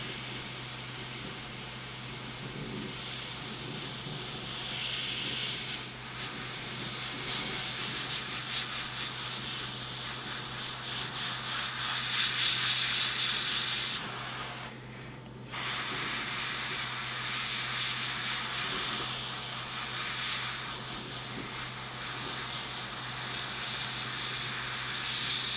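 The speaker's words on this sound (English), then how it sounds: "you are going to spray in random and small patterns like this" Airbrush spraying paint in random small patterns for a marble coat, a steady close hiss running continuously with one brief pause midway before resuming.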